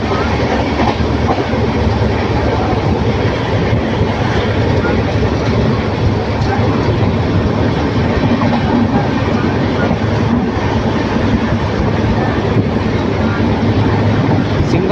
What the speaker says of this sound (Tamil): வண்டி எண்பதில் தாங்க போகுது போதுங்க போதுங்க இப்போ தான் ஏறுது வண்டி